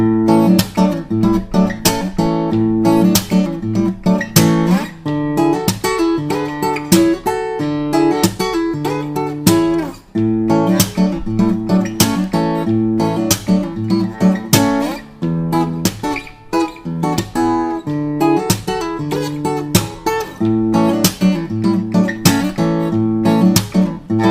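Fingerstyle acoustic guitar riff built from double stops, plucked notes in a steady rhythmic pattern with ringing open strings, played alone and close for the whole stretch.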